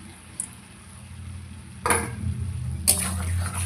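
A utensil stirs curry with fresh coriander leaves in a pan. Soft scraping and a few sharp metallic clinks of spoon against pan ring out over a low hiss of cooking.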